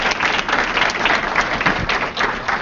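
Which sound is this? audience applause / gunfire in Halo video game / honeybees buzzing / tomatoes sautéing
audience applause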